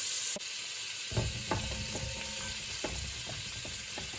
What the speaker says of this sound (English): So my pot is hot, so I'm going to add the butter in here.